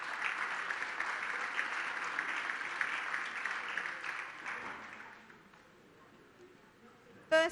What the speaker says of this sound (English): A round of applause for our group of winners.